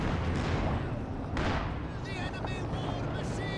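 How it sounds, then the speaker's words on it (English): Artillery fire from a ZiS field gun and surrounding battle in Company of Heroes 2, dense booming shots and gunfire over a constant rumbling din, with a commentator talking throughout. "Zis returning fire in a big way."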